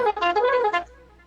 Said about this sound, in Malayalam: ഇപ്പം നിങ്ങൾ കാറിനകത്തിട്ട് ഹോൺ അടിക്കുവാണോ?